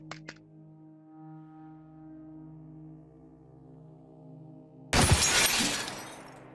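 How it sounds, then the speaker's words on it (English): Glass shatters loudly in the Receiver 2 shooting game, a sudden bright crash that bursts in near the end and rings out, after a steady low droning hum and two small clicks. "if a bullet shatters glass, then that can kill you too"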